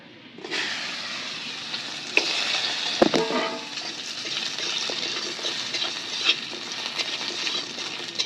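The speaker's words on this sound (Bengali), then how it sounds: "বড়িগুলো এখন আমি ভেজে নেব।" Bori lentil dumplings frying in oil in a pan for shukto: a steady, fairly loud sizzle begins after a brief quiet moment, with a couple of sharp utensil knocks partway through and no talking.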